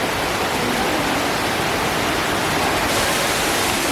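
Shower water runs steadily in a home bathroom, a dense, even hiss of spray that fills the space loud and close, with no voices over it.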